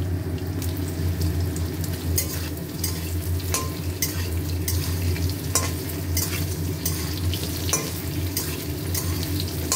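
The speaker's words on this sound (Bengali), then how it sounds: "আর এখানে পনিরটা ভাজছি।" Paneer frying in a pan, a dense, loud, steady sizzle with periodic crackling pops, heard close and alone without talk.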